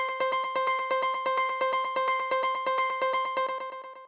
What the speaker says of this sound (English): So what this is it's a sample of the Korg M1 piano.